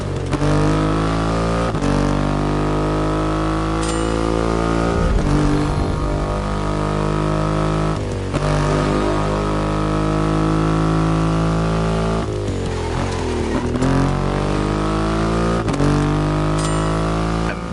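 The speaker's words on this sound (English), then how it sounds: "An extreme motorcycle with a huge presence." In The Crew Motorfest video game, the 2.5-litre engine of a Triumph motorcycle revs and accelerates loudly and close, with a sustained throaty drone that climbs and drops in pitch through several gear changes.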